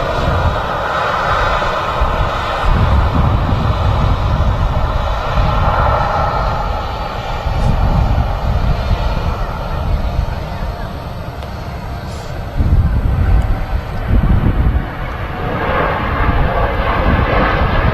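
An airliner at Manchester Airport rumbles past with a loud, sustained jet engine roar that swells and eases in waves, heard close, with voices faintly present underneath.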